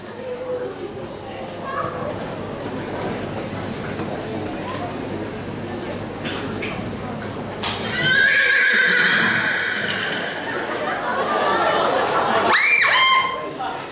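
In a tenth-grade school play, an actor imitates a neighing horse with a loud, shrill whinny that rises and falls near the end, after stage dialogue and crowd noise from the hall.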